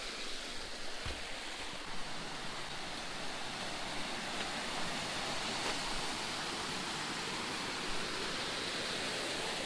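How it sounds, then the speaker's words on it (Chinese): A babbling stream flows beneath a small bridge, a steady, even rush of water that stays constant throughout with no voices. "潺潺的溪水"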